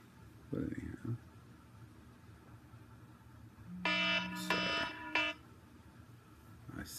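A timer alarm goes off with a few bursts of bright electronic beeping near the middle, heard over a low steady hum, with a person speaking briefly beforehand.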